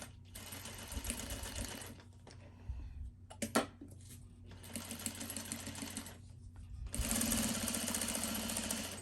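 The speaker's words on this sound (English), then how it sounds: "I'm gonna do a top stitch along the area I" A sewing machine runs top stitching on fabric for a CGM or insulin pump pouch, several steady whirring bursts of stitching separated by short pauses, close and fairly quiet with no talk.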